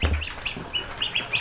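Ducks calling in short, high, nasal bursts after being startled by a dog, several quick close calls in a brief outdoor scene.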